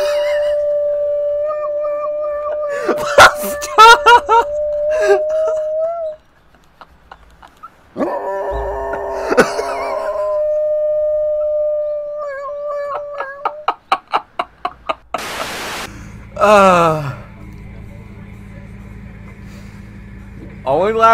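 A dog howls in long, wavering tones that rise and fall, close and loud, alongside barks, shifting noises and people talking.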